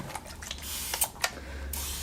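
A fine mist sprayer spritzes a drying paint palette with several quick hissing puffs, followed by a longer burst of spray against a faint low background hum.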